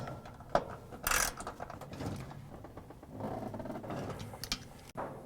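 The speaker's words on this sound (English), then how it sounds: "Now we can put in the bolts that hold the gear case in." Bolts being fitted and turned into the gear case of a Whirlpool washer during a clutch lining repair, giving scattered close metallic clicks, ratcheting and handling knocks with no talk.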